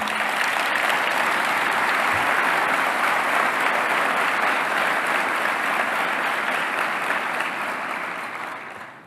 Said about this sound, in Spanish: Vaya si no se merece un aplauso este señor Toto Caputo.